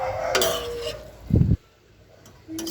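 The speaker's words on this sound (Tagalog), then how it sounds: "haluin lang natin yung ating repolyo" Cabbage being stirred in a pan with a utensil, a short burst of scraping and clinking at mid-clip, with a steady sizzle-like background before and after.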